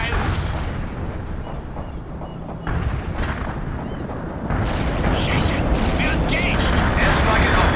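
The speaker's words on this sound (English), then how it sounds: "I deployed the bomb on the mark." Airstrike bombs exploding in the war strategy game World in Conflict, a loud sustained rumble of blasts and gunfire-like cracks that builds in intensity, with aircraft noise mixed into the dense low roar.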